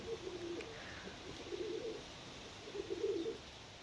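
Pigeons coo in three soft rounded bursts inside a loft of mixed-colour birds, grey, smoky and blue-winged, the calls fairly close and low over a quiet background.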